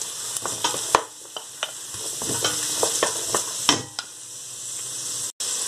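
Onions and carrots sautéing in a pot for a vegetarian vegetable stew, with a steady bright sizzle broken by scraping stirs and a few sharp utensil knocks against the pot, close and without talk.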